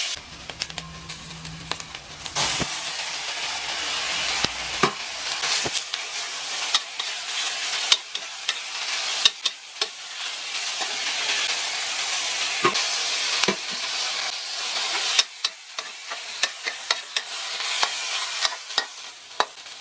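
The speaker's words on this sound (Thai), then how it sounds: "แล้วก็ใส่ กระหล่ำปลีลงไปผัดเลยค่ะ" Cabbage sizzles and hisses in a hot wok while a utensil stir-fries and scrapes it, with steady crackling and occasional clatters. No voices.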